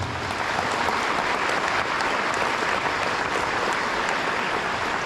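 A convention audience applauds guests at a fan conference panel. Dense, even clapping from a large crowd carries on without a break for the whole stretch and stays at a constant level.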